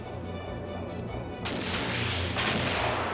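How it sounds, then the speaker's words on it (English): A torpedo fires in the Skies of Arcadia video game, giving a heavy booming launch with a rushing burst that swells partway through and holds loud, over a continuous game rumble, with no talking. "Get a torpedo on it as well."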